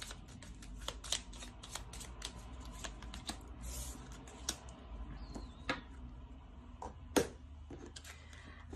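Tarot cards being shuffled and drawn for a reading, giving repeated close, crisp riffling and flicking bursts with sharp snaps against a quiet room hum, no talking.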